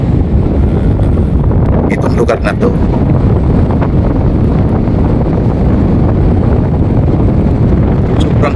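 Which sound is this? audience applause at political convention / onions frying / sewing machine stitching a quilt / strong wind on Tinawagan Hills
strong wind on Tinawagan Hills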